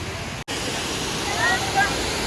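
Cheeyappara waterfall near Munnar town gives a steady, dense roar of falling water, with one brief dropout early on and a slight swell toward the end.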